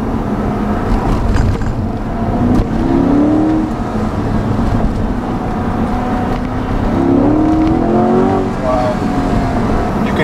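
A 2020 Chevrolet Corvette Stingray 1LT convertible moves through traffic, its engine a steady low rumble with a few brief revs, road and wind noise close by, and no talking over it.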